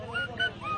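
An elderly man in Nepal imitates bird calls with his voice, giving three rising, honking, goose-like cries in quick succession, close and clear.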